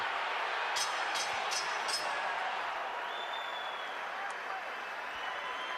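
A boxing arena crowd during the Bernard Hopkins vs Winky Wright fight applauds and murmurs in a faint, distant, continuous wash, with a few brief sharper bursts near the start.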